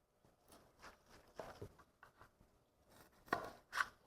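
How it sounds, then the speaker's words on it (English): A knife works through cooled, cooked beef shank to cut out the bones, giving soft, sparse taps and scrapes against a board, quiet and irregular with a couple of sharper knocks near the end. "I'm going to cut out the bones"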